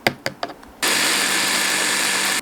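A kitchen blender grinds red chili and onion, starting after a few brief knocks and clatters, then holding a loud, steady, high whirring drone to the end.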